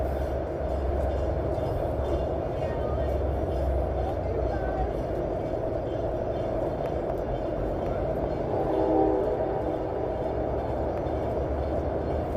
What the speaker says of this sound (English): you hear the metro train there off in the distance?